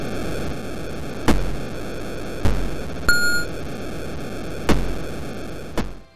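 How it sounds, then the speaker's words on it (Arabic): Background sea sound from an Atari beach volleyball video game: a steady hiss of static-like white noise swelling in periodic surges every second or so, with a brief electronic beep partway through. "بالنسبة لصوت البحر بالخلفية،"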